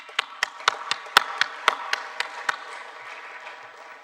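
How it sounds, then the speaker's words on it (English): Audience applause honoring Ethiopian Airlines at the Brand Africa 2025 awards event: a burst of crisp, distinct claps at first that thins out and fades into scattered, softer clapping over a few seconds. "We have to applaud to our great airline."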